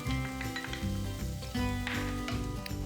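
Green peas tumble into a pan of fried rice with bacon and egg, a dense sizzle under busy scraping and clinking of a utensil stirring against the pan.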